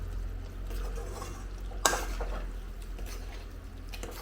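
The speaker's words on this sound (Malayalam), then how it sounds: "നമുക്കിതിനെ നല്ലപോലെ നിളക്കി യോജിപ്പിച്ചെടുക്കാം" A spoon stirs and mixes a bilimbi pickle mixture, producing soft scraping and wet shuffling against a pot, with one sharp clink of metal midway and a low hum underneath.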